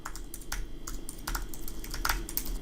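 Someone types on a computer keyboard in a Mac or Linux terminal, giving a quick run of light clicking keystrokes, close and fairly quiet, with no talk.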